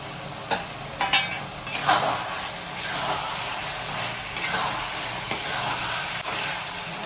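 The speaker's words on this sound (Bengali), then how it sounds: "এবার আমি পনিরগুলো মিশিয়ে দিলাম।" Paneer being stirred into vegetable biryani in a cooking pot makes scraping, clattering strokes over a steady sizzle, close and moderately loud.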